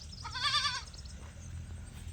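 A single goat on a goat farm lets out one loud, wavering bleat near the start, then low farmyard background noise continues without talking.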